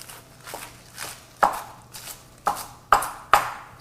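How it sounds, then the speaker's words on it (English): A knife roughly chops green herbs on a cutting board, giving a handful of sharp, close knocks at uneven intervals, with the last few strikes coming closer together and louder. "And just a super rough chop"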